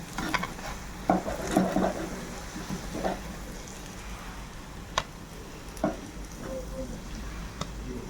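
Pitha made with makhan phool and leafy greens frying in a pan: a soft, steady sizzle with occasional stirring scrapes and clinks, heard close, with no one talking over it.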